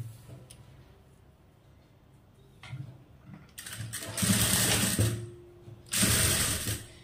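Sewing machine stitching a blouse, its motor whirring in two loud bursts of rapid mechanical clatter after quieter handling noises, with no talk.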